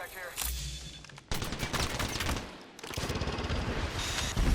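Bursts of gunfire aimed at the player in a multiplayer shooter, rapid cracking shots in several clustered volleys across the clip, loud and close, with some voice chatter in the background.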